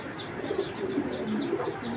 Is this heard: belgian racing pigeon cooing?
yes